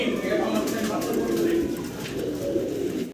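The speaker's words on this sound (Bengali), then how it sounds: "এটা তো রানিং কবুতরগুলো, তাই না ভাই?" Pigeons coo and murmur in a large pigeon farm, a steady dense chorus of low calls with occasional wing flutters, close and continuous throughout.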